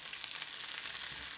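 Venison chorizo fries in hot oil in a pan with a soft, steady sizzle, faint and continuous throughout the short stretch, with no voices.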